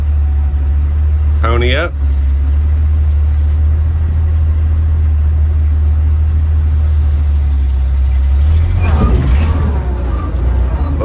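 A 1951 Dodge Power Wagon truck engine runs steadily in first gear with a deep, constant low rumble throughout, close and loud, while someone speaks briefly over it near the start and again near the end.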